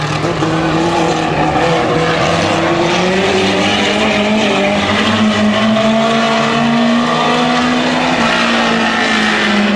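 A 4-cylinder 250 speedway race car pulls away under full power, its engine a loud, continuous high-revving drone with shifting pitch, close and steady throughout, joined by faint tire squeal and no audible talking.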